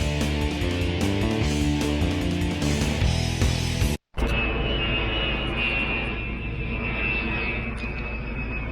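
A Boeing E-8C JSTARS four-engine jet roars loudly overhead, its steady engine rumble and rising whine sustained throughout after a brief cut, with no talking.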